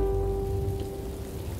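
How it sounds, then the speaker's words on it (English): Steady rain patters on a surface beneath a faint sustained hum, a continuous wash of close drizzle with no voices. "It's going to rain!"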